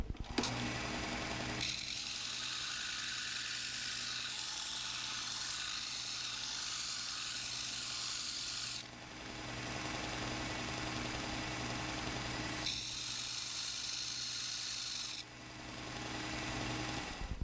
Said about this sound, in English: I'm at the belt sander, and with the 80 grit disc, I'm going to make a nice tip on this.